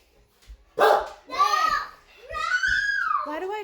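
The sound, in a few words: dog barking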